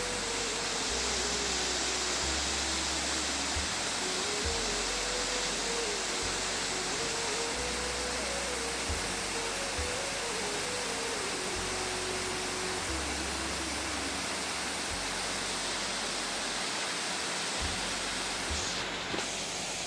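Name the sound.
heavy rain in the forest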